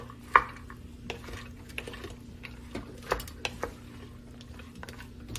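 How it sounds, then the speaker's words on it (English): Onions are stirred in a slow cooker pot, giving sparse, irregular clicks and light clanks of a utensil against the pot over a quiet background hum. "Give that a little stir right quick."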